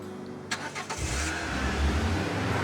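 A car in the video game Life Makeover starts up with a few quick mechanical clicks, then settles into a low, steady engine rumble as it drives off.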